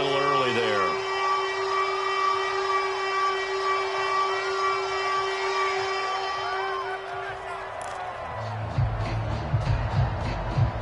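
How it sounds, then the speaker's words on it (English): Shrill referee whistles blow at an NFL game between the Pittsburgh Steelers and Cincinnati Bengals at Heinz Field, several sustained tones ringing out over a loud stadium crowd for most of the stretch, then fading as crowd noise swells. "Now whistles and a flag"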